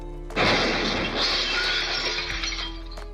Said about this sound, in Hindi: पेड़ से टकराते ही गाड़ी की खिड़कियां, विंडशील्ड का ग्लास फूट गया।